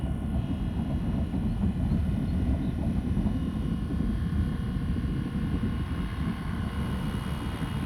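Flywing Bell 206 RC helicopter hovering during an endurance flight, a faint steady whine and rotor hum held without a break, no voices.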